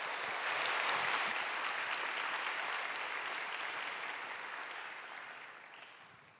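A church congregation applauds a newly baptized young woman at a youth service. Dense, steady clapping fills the room for several seconds, then slowly fades.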